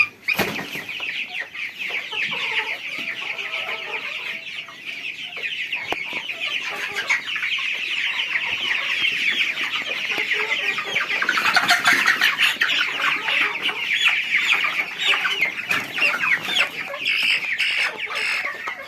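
Tiger chickens about 46 days old cluck and squawk continuously in a flock, a busy steady chorus of farm birds close by with no talk over it.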